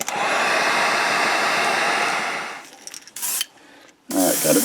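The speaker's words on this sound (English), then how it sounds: "Let's go ahead and dry that with the heat gun." Heat gun drying a fresh coat of paint, giving a loud, steady blowing roar close by for about two and a half seconds before it cuts off, followed by a few short bursts of airflow.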